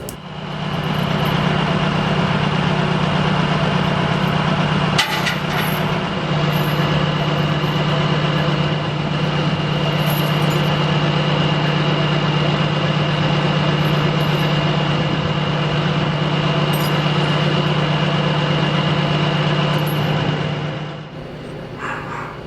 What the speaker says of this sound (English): A John Deere 437 loader and 648H skidder rolled it up onto a lowboy a little bit at a time